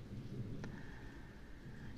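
A thunderstorm rumbles outside with low, steady rain and wind noise throughout, a brief crack of thunder standing out near the middle against the continuous storm wash.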